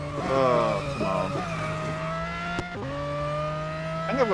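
Car in the Real Racing 3 racing game skidding and crashing, with tire squeal and a sharp impact knock over a sustained, wavering engine drone that rises and falls; no voices.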